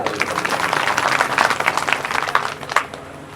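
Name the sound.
audience applause during a religious discourse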